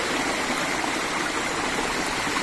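Flowing water is being blocked, a continuous close rushing and gurgling with no pauses or voices.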